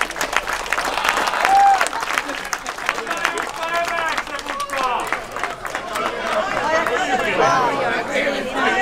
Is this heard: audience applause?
yes